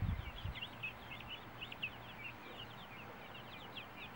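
Guinea fowl call repeatedly in a steady, chattering series of sharp cries, moderately near over a faint low rumble of background noise.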